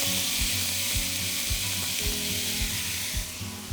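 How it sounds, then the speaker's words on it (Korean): Neungi mushrooms grilling in a pan give a steady, close, dense sizzle, with soft rhythmic stirring or shifting sounds pulsing underneath throughout, and no speech. "여기에다가 먼저 이제 버섯을 넣고 구워주세요"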